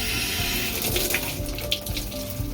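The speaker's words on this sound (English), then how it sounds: "Add a little more water." Water running from a tap while a cymbal is being cleaned, a steady splashing gush with small clinks and bursts of spray, close and continuous with no talking.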